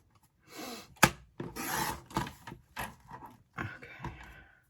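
A wooden piece for an accordion ephemera holder is trimmed along one side with several short, close rasping strokes, one after another with brief pauses and a sharp knock early on.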